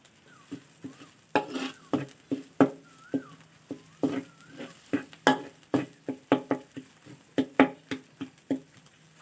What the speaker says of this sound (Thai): ผัดพริกแกงจนพริกแกง เริ่มจะที่จะได้ กลิ่น หอม ขึ้นมา แล้ว